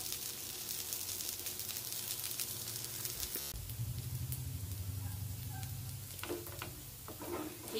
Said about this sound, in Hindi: और इसे हम गोल्डन ब्राउन होने तक फ्राई करेंगे।